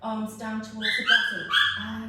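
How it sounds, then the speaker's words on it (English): A dog yips and whines in high, rising bursts while a person speaks over it at close range. "That's my dog, you can hear."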